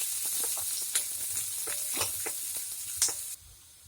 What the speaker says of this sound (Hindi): प्याज को हम अच्छे से पीस के फ्राई कर लेंगे।